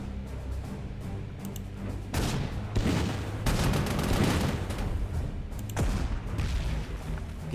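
Booming artillery fire from the World War II strategy game Panzer Corps 2, loud repeated blasts and rumbling salvos over a steady low battlefield drone, with about four heavy bursts across the stretch.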